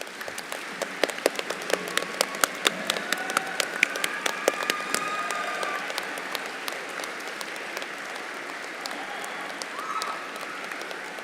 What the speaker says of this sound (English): stand up so we can go ahead and applaud for you